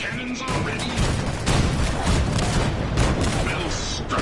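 Ship cannons fire in a video game naval battle, loud booming blasts and crashing impacts layered over a dense rumble, with voices speaking through the barrage.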